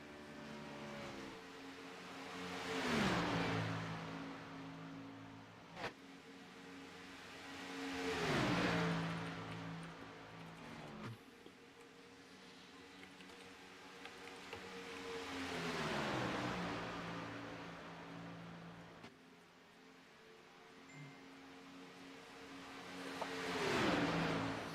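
Gen 6 race cars roar past on the Talladega oval during a Sunday evening feature, engines rising and falling in repeated loud pass-bys every few seconds, with a steady field of cars droning between them.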